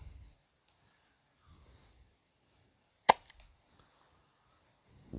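A CO2-powered dart blaster fires a single sharp, close pop in otherwise quiet surroundings. Faint rustles and soft breathing come before and after the shot.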